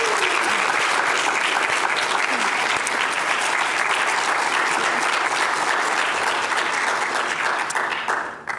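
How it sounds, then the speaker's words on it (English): Loud, dense audience applause for the speakers at a panel event on household debt and wealth, a continuous wash of many hands clapping that runs steadily throughout and fades slightly at the very end. "give a round of applause for all the speakers we heard from"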